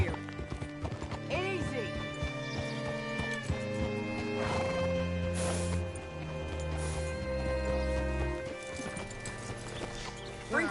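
Horse hooves clip-clop with occasional whinnies at an old, eerie place, a steady clopping rhythm running throughout alongside creaking movement and a low ambient music bed, with a brief spoken word over it.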